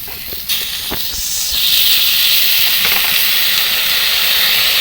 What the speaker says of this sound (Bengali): এখানে পেঁয়াজ বাটা এবার দিয়ে দেব।